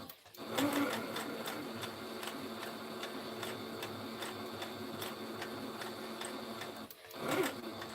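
A sewing machine stitches with a steady, fast mechanical whirring and ticking, fairly quiet and close, running continuously with a brief stop near the end before resuming.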